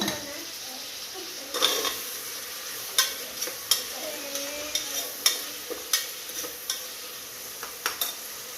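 Salted vegetables fry in oil while a spoon stirs them, giving a steady sizzle broken by regular scraping clinks against the pan, close and fairly clear.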